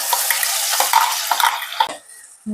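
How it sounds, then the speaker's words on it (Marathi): Coriander leaves and ground masala paste hit hot oil in a pan, giving a loud close hiss with scraping stirs that fades away near the end. "इथे तेल छान तापलंय आता यामध्ये थोडीशी कोथिंबीर टाकून घेते आणि जे आपण वाटण करून घेतलं होतं ते टाकून घ्यायचं यामध्ये"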